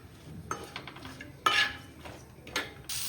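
Masala with coconut is sautéed in oil for matka chicken, heard as a few distinct spatula scrapes and metallic clanks against the pan over a faint low sizzle, close and fairly quiet.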